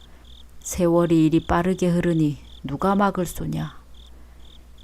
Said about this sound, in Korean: 옛 생각에 잠기어 걷는 길에 귀뚜라미 울음소리가 구슬프게 울려 퍼졌다